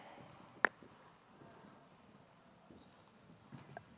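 A horse canters on the right lead during flying change schooling, its soft rhythmic hoofbeats fairly faint and steady, with one sharp click early on.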